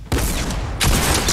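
A pump shotgun fires in Fortnite, loud booming blasts with dense crackling that fill the whole moment, one burst at the start and another heavy hit close behind, with no voices.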